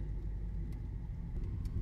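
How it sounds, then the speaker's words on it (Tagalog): A car belonging to a friend named Jessica rolls along near a farm house hosting a birthday, a steady low engine rumble and road noise throughout with no voices. "Ay, yung sasakyan ni Jessica."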